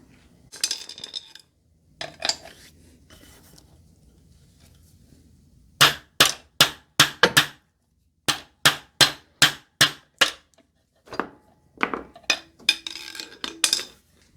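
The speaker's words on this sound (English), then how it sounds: "we're going to remove the seal and the inner bearing with, you guessed it, a great big hammer" A big hammer strikes metal repeatedly, knocking out the axle seal and inner bearing on a Ford Model T, sharp ringing blows in a steady rhythm, close and loud, with short pauses between bursts of hits.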